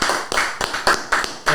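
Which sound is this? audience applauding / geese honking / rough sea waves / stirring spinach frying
audience applauding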